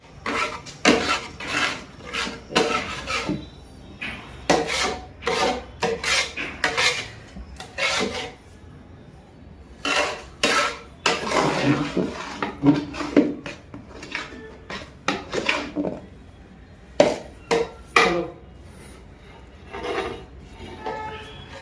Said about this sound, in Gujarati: તો આવી રીતે શેકેલો લોટ અને સાહણી મિક્સ કરી દઈએ છીએ બરાબર મિક્સ કરી દેવાની